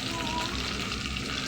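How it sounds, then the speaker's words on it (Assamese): Onions fry in a wok with a continuous hiss and crackle, steady throughout the short stretch, with faint hints of a voice underneath. "এয়া ধুনীয়াকৈ পিঁয়াজখিনি ভাজি ল'লোঁ, এয়া ধুনীয়াকৈ ভাজি লৈছোঁ"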